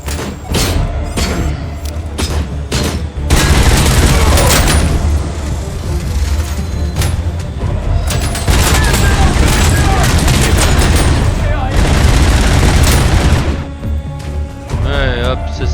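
Turret gunfire in the Robocop video game, rapid bursts of loud shots and booming impacts mixed with game effects, with a voice talking over it.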